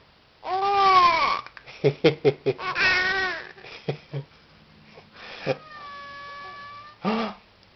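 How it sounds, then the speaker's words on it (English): A domestic cat meows up close in a series of drawn-out, wavering calls and short chirps, loud and clear against a quiet room, with a long mewing whine near the end. "Crazy cat."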